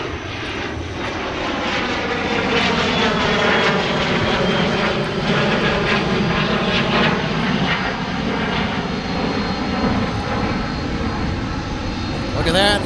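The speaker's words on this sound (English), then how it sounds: "we're looking off in the direction of where we expect our A300 to taxi" An Airbus A300 jet taxiing at MSP airport in the Twin Cities, its engine roar steady and loud with a whining tone that slowly shifts in pitch as the aircraft passes, with a voice talking over it.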